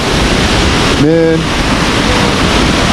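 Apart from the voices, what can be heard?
waterfall rushing in a forest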